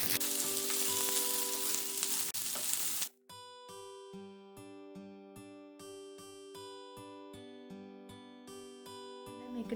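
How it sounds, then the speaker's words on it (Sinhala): Potatoes frying with dried sprats, pandan and curry leaves in a pan, giving a loud, dense sizzle for about three seconds before it cuts off abruptly and plucked music takes over. "දැන් මේක අපි හොඳට කලවම් කරගන්න ඕනේ."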